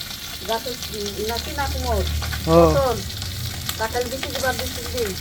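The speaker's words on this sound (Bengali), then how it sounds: "মাছ ভাজা চলছে।" Fish frying in a pan, a steady close sizzle that runs the whole time while people talk over it.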